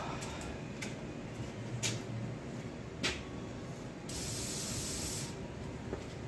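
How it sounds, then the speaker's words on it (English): Short hissing spurts from an aerosol can of spray oil lubricating the door hinges of a 2020 Subaru Impreza, several quick bursts and then one longer spray, fairly quiet and close, without any talking. "Where's my spray oil?"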